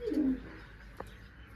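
Pigeons perched together give a short, close coo near the start, then a faint quiet stretch with a small soft knock midway.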